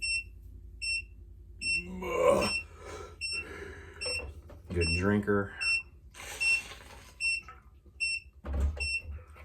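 Short electronic beeps repeat at an even pace, pausing in between, while people talk over and around them at close range.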